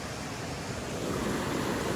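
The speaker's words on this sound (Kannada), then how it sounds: "ಕೊಲ್ಲೂರು ನದಿ ಅಷ್ಟೊಂದು ಫೋರ್ಸ್ ಏನಿಲ್ಲ, ಲೈಟಾಗಿ ಇರ್ತೈತೆ" The Kollur river flows gently, a dense, even rush of water close by, blended with some wind noise, steady for the whole moment with no speech.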